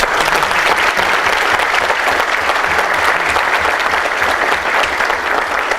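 A crowd at a data journalism talk in Brazil claps loudly and continuously for the event organizers, a dense, sustained burst of applause with no speech over it.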